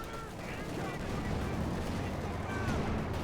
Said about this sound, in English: Got the anti-tank guns, have plenty there firing at the Sherman there